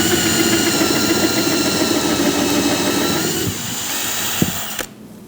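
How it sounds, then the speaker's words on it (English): Power drill turning a countersinking bit into wood to bore a screw hole, a steady close whine with grinding texture for several seconds that eases in pitch near the end, then a couple of small clicks before stopping. "we're going to use what's called a countersinking drill bit"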